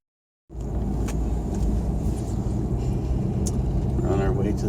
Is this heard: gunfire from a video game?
no